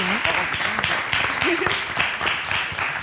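Applause and clapping from a small group at an ice club event in Jaca, steady dense clatter with voices talking and calling out over it throughout.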